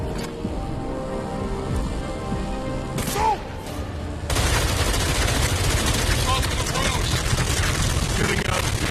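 Rapid bursts of gunfire in the VR game Arkham Shadow, a steady dense rattle that suddenly grows louder and fuller partway through, with a brief tonal sweep before the surge.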